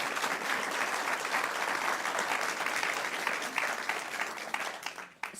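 Audience applause at an evening book talk, dense steady clapping from a room of listeners that carries on evenly before tapering off at the very end.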